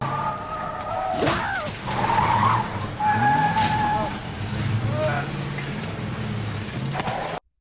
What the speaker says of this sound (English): a car suddenly chases him and nearly hits him